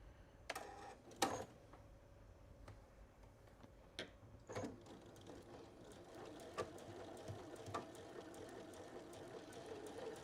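A sewing machine runs a reverse stitch on a tote bag, a quiet, continuous mechanical whir with scattered sharp clicks and taps throughout, heard alone at low volume.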